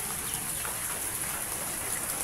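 Rain pours steadily outdoors as a dense, unbroken hiss with faint pattering of drops and no one speaking.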